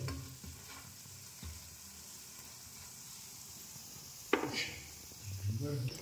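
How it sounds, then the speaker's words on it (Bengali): Medu vada, South Indian lentil fritters, fry slowly in oil over a low flame, a soft steady sizzle with an occasional utensil scrape and faint background voice, fairly quiet. "এটা আমি লো ফ্লেমে আস্তে আস্তে দুটো সাইডই ভেজে নেব।"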